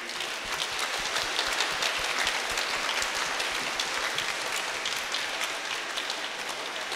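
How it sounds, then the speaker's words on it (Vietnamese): Congregation applauding a newly married couple during a Catholic wedding mass, an even, hissing wash of many hands clapping that continues steadily without voices. "chúc mừng cho anh chị, cho gia đình mới, chúc mừng cho bốn họ hai bên đời bằng một tràng pháo tay nồng nhiệt"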